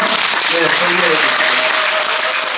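Crowd applause fills the clip, a dense steady clatter of many hands clapping at full volume for a couple of seconds.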